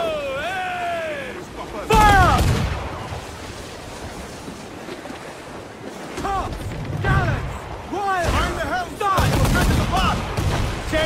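Naval cannons fire from a sailing warship in Assassin's Creed IV: Black Flag, several heavy booming volleys in bursts amid ocean surf, with crew voices shouting orders between the shots.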